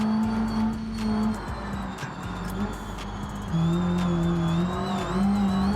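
Modified Renault Twingo engine at high speed in BeamNG, a loud sustained engine whine whose pitch shifts up and down with gear and throttle changes, alongside continuous road and wind roar.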